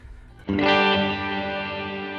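A single guitar chord played through a Line 6 Helix slow-blooming reverb lands after a brief pause, then swells and scatters into a dense, sustained shimmer that holds steadily to the end.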